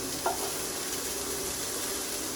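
Onions frying in a pan and being stirred while cooking a dhaba-style paneer masala gravy, a steady close sizzle with a brief scrape of the spoon early on.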